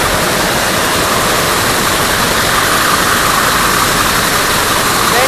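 A Tsudakoma air jet loom weaves cloth in a textile mill, producing a loud, constant roaring hiss of air and machinery that fills the whole stretch without a break.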